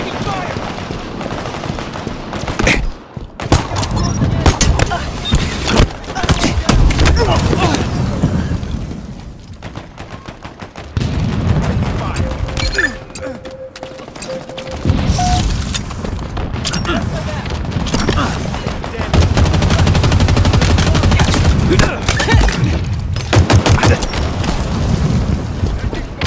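Rapid bursts of gunfire in Halo Infinite online multiplayer on the Bazaar map, loud and nearly continuous, with repeated volleys and booms.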